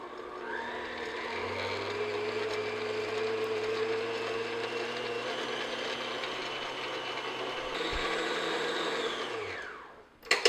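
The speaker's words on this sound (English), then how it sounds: "You're just beating the butter and sugar together just until nice and creamy." An electric mixer beats butter and sugar for chocolate shortbread, a steady whirring motor hum that holds for about ten seconds, shifts briefly near the end, then winds down with a couple of clunks.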